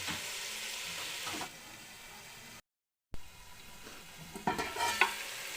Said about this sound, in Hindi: अब मैं इसको अच्छी तरह से भून लेती हूँ।